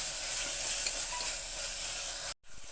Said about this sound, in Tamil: இப்போ புதினா கொத்தமல்லியும் போட்டுக்கிறேன். நான் இதையும் போட்டு நல்லா வதக்கி விடுங்க.